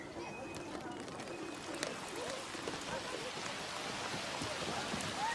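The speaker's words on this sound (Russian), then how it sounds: "О нет, о нет, о нет. Дождь!" Steady rain pours down outdoors, a dense hiss of drops hitting surfaces throughout, with faint voices and occasional bird calls mixed in.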